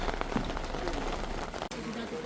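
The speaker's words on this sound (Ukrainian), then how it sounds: "Такий крупненький дощик пішов." Dense, steady rain pours down in the Carpathian mountains, a broad hiss with scattered drops pattering close by throughout.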